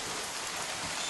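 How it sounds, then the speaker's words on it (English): Steady rain falls outdoors on a wet day, a dense, even hiss of drops on surfaces that stays constant throughout with no voices. "And it's raining today."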